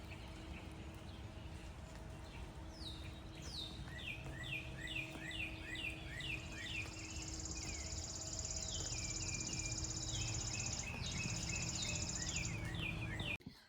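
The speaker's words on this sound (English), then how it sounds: "Listen to that bird." Outdoors, a bird repeats rapid chirping trills and thin whistled phrases, moderately near, over a steady low background hum, with insect buzzing in the background.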